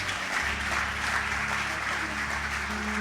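A worship audience at a night revival service applauds and cheers the Lord. Dense clapping and crowd noise fill the space evenly for the whole stretch, loud and sustained, with no single voice standing out.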